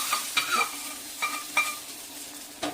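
Mustard seeds and curry leaves in hot oil poured over a South Indian-style eggplant curry: a steady sizzle with several quick crackling pops and spoon-on-pan clinks, close and fairly quiet.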